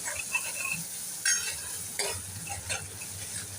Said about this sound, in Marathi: असा कढीपत्ता आणि आलं लसूण आणि मिरची यांचा जो ठेचा आपण बनवला होता हा जरा असा व्यवस्थित फ्राय करून घेऊया